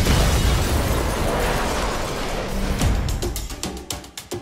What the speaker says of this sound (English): It's a very small bomb.